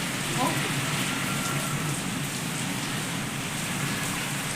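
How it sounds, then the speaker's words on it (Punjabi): Steady rain falls on surfaces nearby as a dense, even hiss that continues without a break. "ਘਰੇ ਅਸੀਂ ਪਹੁੰਚੇ ਨਾਲ ਦੀ ਨਾਲ ਮੀਂਹ ਆਇਆ"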